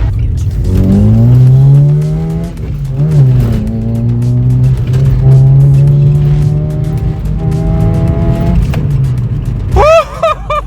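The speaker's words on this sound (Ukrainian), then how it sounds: "Зараз я вам покажу, як шпарить ГТІ." A Volkswagen Golf 2 GTI engine revs hard under full acceleration, a loud, close, sustained drone that climbs in pitch through the gears, then falls away before a short, sharp squeal near the end.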